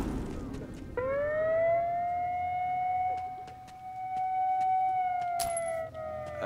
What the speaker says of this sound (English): are those the good sirens?